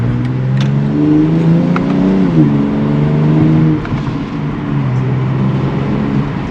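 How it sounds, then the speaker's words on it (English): A 2021 BMW X3 M Competition engine revs hard and close through its stock exhaust, its pitch rising and falling, with a few sharp exhaust pops over the roar. "this stock exhaust is dumping"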